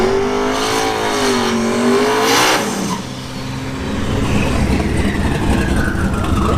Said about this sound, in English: We have a 4th gen Camaro